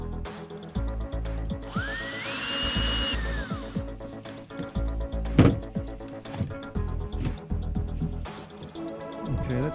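A power drill drives long screws into a wooden storage box, its motor whining steadily for a few seconds, with sharp knocks, clatter and a loud bump over a busy mixed background.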